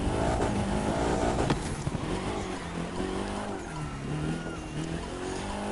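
Drifting race car in The Crew 2 with an engine revving steadily and shifting pitch through slides, tire noise under it, loud and continuous in a racing game.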